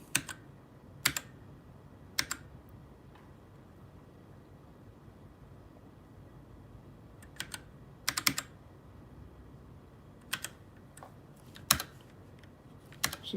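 Keys tapped on a computer keyboard while a PC is being built, in sparse bursts of a few crisp clicks separated by pauses, near and fairly quiet over a low room hum.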